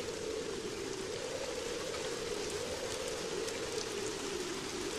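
Steady heavy rain during a storm, a dense even hiss of drops on surfaces that holds without a break, loud and continuous, with no voices.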